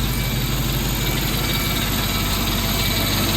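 A Mercedes W202 C43 AMG engine idles after an EGR valve replacement, a steady, loud, close low rumble with even vibration throughout and no voices.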